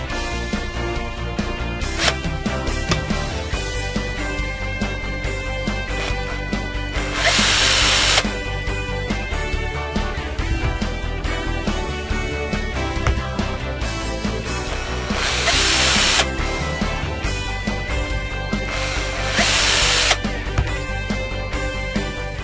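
Power drill driving screws into a wooden fixture made from cut boards, a loud close whir running almost without pause, with several sharper bursts as screws bite and seat, and no talking.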